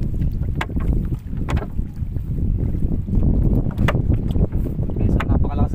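Strong wind buffets a boat on a river during a fishing trip, a loud steady rush of wind noise running throughout with people talking over it.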